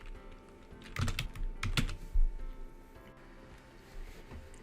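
Quick, close clatter of keystrokes on a computer keyboard, a couple of brisk bursts of typing followed by a few scattered taps in a quiet room.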